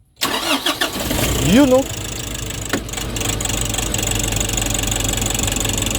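A 2020 Nissan Urvan NV350 van engine cranks in several quick bursts, catches and settles into a steady idle, close and loud, while someone briefly speaks over it.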